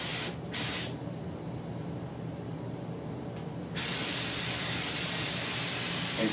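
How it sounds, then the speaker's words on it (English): Short hissing spray bursts from a paint spray gun flushing water to clear out clear coat, then a long continuous spray hiss, close and steady. "turn the gun upside down, drop the canister off with the clear coat, install the one with water, and then just spray it"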